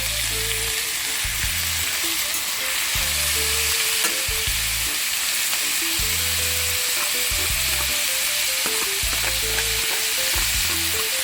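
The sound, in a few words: salt mackerel frying in a pan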